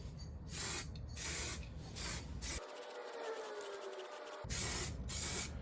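A spray gun lays paint onto a Jeep Patriot in repeated close hissing passes, with a short quieter hiss in the middle between the louder bursts.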